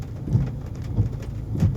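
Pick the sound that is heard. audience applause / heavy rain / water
heavy rain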